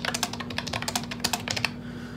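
Rapid, close typing on a MOFii Phoenix Bluetooth keyboard with hexagon-shaped keycaps, a dense run of light clicky keystrokes that stops near the end.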